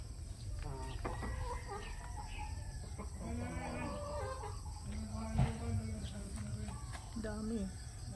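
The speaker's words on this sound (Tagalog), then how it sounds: "Sa ngayon, meron silang mga manok." Chickens cluck and chatter on a farm lot in Padre Garcia, Batangas, with repeated close bursts of fowl calls over a low rumbling background, and people talking intermittently nearby.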